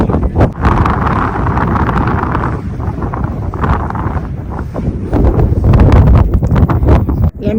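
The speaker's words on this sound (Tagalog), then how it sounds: "Malakas ang hangin." Strong gusting wind buffets the microphone on an open mountain summit in the Swiss Alps, a loud continuous roar with surging, uneven blasts and no talking.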